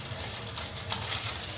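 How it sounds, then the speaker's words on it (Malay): Seafood fried rice with crab, egg, anchovies, onion, rice and soy sauce fries in a pan, giving a steady close sizzle with no talk over it. "Masak apa Huza? Nasi goreng seafood."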